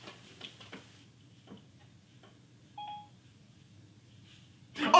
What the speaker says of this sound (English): Siri, set timer for 1 minute.